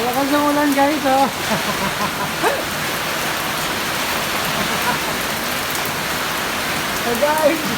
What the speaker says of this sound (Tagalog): Alakas na ulan, guys, oh.